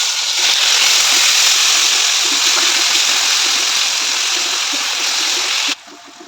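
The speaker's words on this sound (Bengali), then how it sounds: "সর্ষের তেল দিয়ে চিকেনটাকে আমি দিয়ে দিচ্ছি" Marinated chicken sizzles steadily in hot mustard oil, a dense, even hiss of frying that holds for several seconds before cutting off abruptly near the end.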